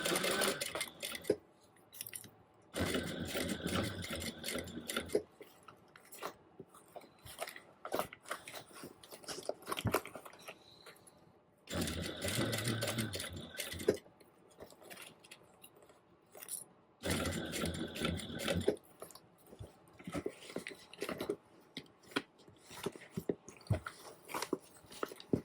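Sewing machine stitching a fabric crossbody bag with D-rings, running in several long bursts of rapid mechanical whirring separated by pauses and handling noise.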